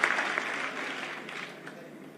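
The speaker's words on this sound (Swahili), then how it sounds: "Pigeni makofi." A crowd at a thanksgiving service in Kirinyaga County gives a short round of applause. The clapping is dense and starts strongest, then fades over about two seconds.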